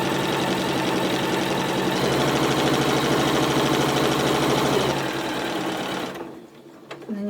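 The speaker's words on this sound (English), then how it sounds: "Lower the presser foot, insert the needle, back tack at the front," A sewing machine runs steadily for about six seconds, stitching a straight seam across fabric pieces for a drawstring gift bag, with a dense rapid mechanical rhythm before stopping abruptly.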